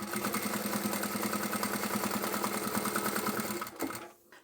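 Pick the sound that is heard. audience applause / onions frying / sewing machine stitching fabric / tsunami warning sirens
sewing machine stitching fabric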